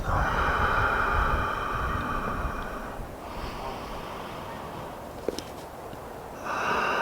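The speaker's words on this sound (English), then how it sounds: "Take a deep inhale." Slow, deep breathing during a gentle afternoon yoga stretch: a long airy inhale, a quieter pause, then a soft exhale, heard up close with no talking.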